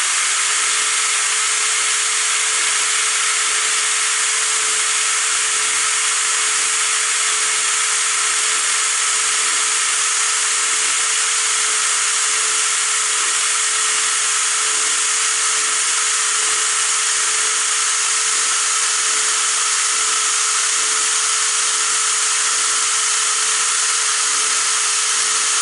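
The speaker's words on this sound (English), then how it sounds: "you could use a drill to sharpen your stuff" An electric drill runs steadily while sharpening a carbide band saw blade, giving a continuous, even high whine with dense hiss and no pauses for the whole stretch.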